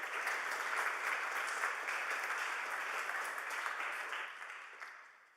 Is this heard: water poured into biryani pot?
no